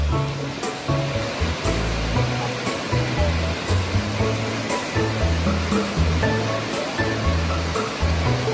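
Shiraisu Falls waterfall roaring in a constant dense rush of white water, loud and unbroken throughout, with no talking.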